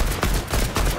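Gunfire in a Fortnite match, three heavy rapid blasts about a quarter second apart, loud and close with no talk.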